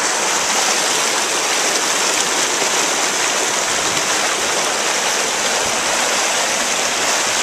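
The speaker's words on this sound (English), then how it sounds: "All you hear is the water. It's beautiful." A waterfall pours into a stream, a steady, dense rush of falling water that stays loud and even from start to finish, with no voices or other sounds breaking through.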